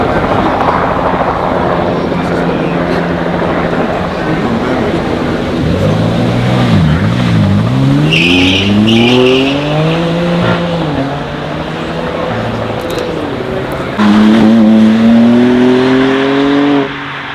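A 2025 BMW M2 CS engine revs and accelerates, loud and close, its pitch climbing and falling through several sweeps before a sharper rise near the end.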